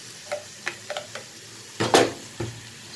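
Pulao with soy sauce and a little butter being mixed in a pan: scattered spoon scrapes and clinks over a low sizzle, with one louder clatter of stirring near the middle.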